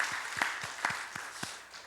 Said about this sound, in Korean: 우리 위로하고 감사하는 박수를 하겠습니다